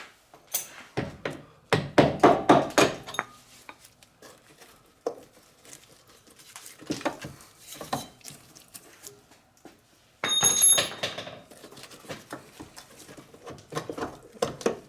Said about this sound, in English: I'm going to get a little pick or a little punch here and push this the rest of the way through.